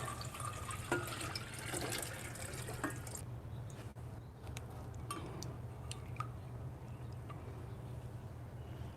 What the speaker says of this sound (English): I'm going to pour the room temperature water in first